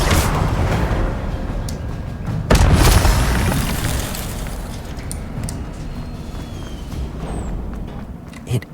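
Incendio fire spell cast in Hogwarts Legacy, a loud booming blast of fire that flares sharply midway and then rumbles on under continuous roaring noise, with no voices.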